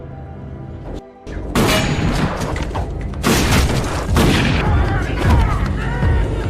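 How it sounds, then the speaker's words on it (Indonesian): Gunfire from a horror film scene, a burst of loud shots amid booming, crashing action that continues densely throughout, with low rumbling thuds beneath. "saat James secara spontan menembakkan senjata apinya"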